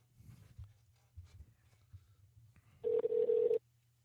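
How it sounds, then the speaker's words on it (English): A telephone line is dialed, with faint clicks and low hum before a loud, steady ringback tone sounds for under a second, recorded during a radio show phone call. "let's dial Rick and get him on the phone"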